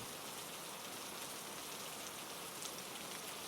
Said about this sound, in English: the rain falls like dancing droplets on the tin roof